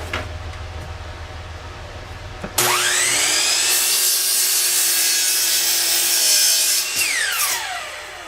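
A power saw rough cuts oak boards for a shelf and towel rack: a quiet lead-in, then the blade bites in with a loud, sustained whining rasp that drops away near the end.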